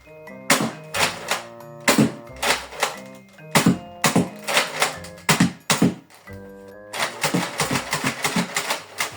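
Foam dart blaster fired repeatedly in bursts, a string of sharp mechanical thunks and clacks with short pauses, loud and close, with no talk over it.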